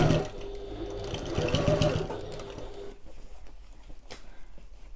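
A sewing machine stitches a satchel in a fast, close rattling run that slows and stops after a few seconds, followed by quieter handling sounds.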